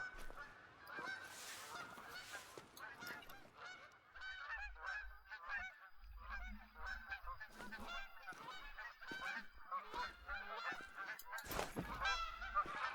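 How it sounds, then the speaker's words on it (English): Geese honk repeatedly as a flock flies over in the hunting game theHunter: Call of the Wild, at Askiy Ridge. The calls come in irregular overlapping bursts throughout, moderately loud, with no talking. "there's some geese flying over"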